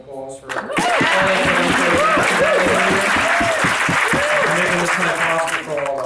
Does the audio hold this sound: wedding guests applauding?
yes